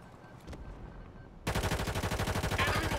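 Call of Duty gunfire: after a quiet stretch with a few faint clicks, a loud, rapid burst of automatic fire starts midway and keeps a fast, even rhythm to the end.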